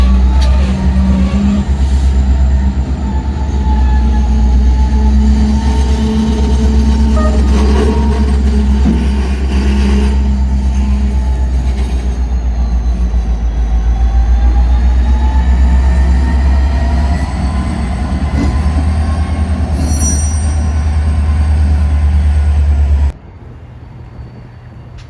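A Norfolk Southern GP60 diesel locomotive passes with its train, a loud steady low rumble and rolling wheel noise running continuously and close by before cutting off abruptly near the end.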